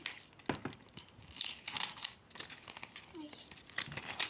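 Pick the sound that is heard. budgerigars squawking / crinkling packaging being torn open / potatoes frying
crinkling packaging being torn open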